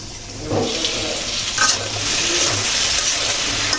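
Winter vegetables with flat beans, potato and spices stir-fry in a pan for a rohu fish curry, a steady close sizzle with scraping stirs throughout and no talk.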